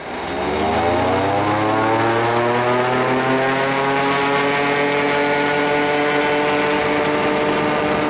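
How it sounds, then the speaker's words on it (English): An ultralight trike's propeller engine roars steadily and loudly as it takes off down a runway, its harmonic drone rising in pitch as it speeds up, with no talk. "So as we see, Howard takes off, and I'm right behind him."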